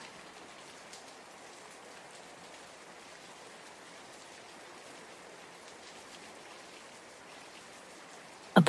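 Steady, even rain falls alone and close throughout with no voices, broken only by a brief loud knock at the very end.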